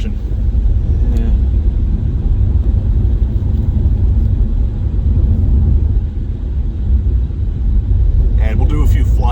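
A Chevrolet SS sedan drives along with a steady low engine rumble and road noise throughout, close and fairly loud, easing slightly near the end.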